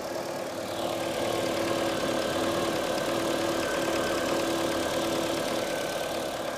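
A VW Mk4 engine idles steadily at close range after a coolant leak repair, a constant mid-pitched running hum with faint knocking and vibration and no talking.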